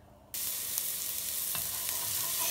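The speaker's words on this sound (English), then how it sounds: "Shallots and garlic in the oil. Here comes the beef." Ground beef hits hot oil with shallots and garlic, bursting into a loud, steady sizzle that starts abruptly and keeps crackling, with a few faint scrapes of stirring and no talking.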